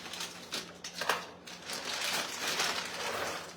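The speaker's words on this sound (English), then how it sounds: "I'm just going to put these on the baking tray" Shelled walnuts are tipped and spread onto a parchment-lined baking tray, making soft rattling clatters and crinkling paper rustles up close, with a few sharper knocks among them.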